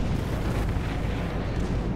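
Naval guns of the Myogi warship in World of Warships fire in a continuous, loud rumbling barrage of booming blasts, dense and sustained throughout with no talk over it.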